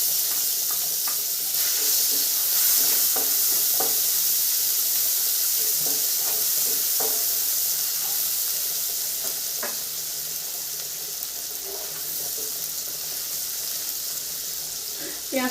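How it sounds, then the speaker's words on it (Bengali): Chopped onion fries in oil with black cumin seeds in a pan already used for frying potatoes, giving a constant bright hiss with occasional spatula taps and scrapes, for a tengra fish curry. "পেঁয়াজটা 30 সেকেন্ড ভেজে নিই"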